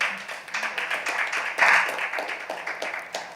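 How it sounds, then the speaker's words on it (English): An audience claps at a National Action Network youth event, with brisk, moderately loud applause that holds steady for a few seconds and swells briefly midway. "Can we get a round of applause for that?"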